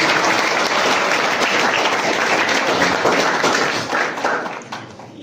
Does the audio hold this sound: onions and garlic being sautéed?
no